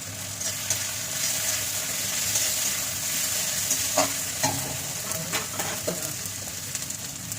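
A bay leaf and chopped garlic fry in hot oil with a steady, close crackling sizzle, broken by occasional clicks and scrapes of stirring.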